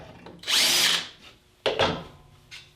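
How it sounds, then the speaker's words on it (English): Power drill pre-drilling a hole into a wooden sacrificial fence for panel screws: a close, loud half-second whir of the bit biting into wood, then a shorter second burst and a faint brief trigger blip after. "I typically pre-drill a hole"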